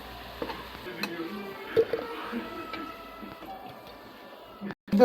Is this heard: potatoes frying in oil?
yes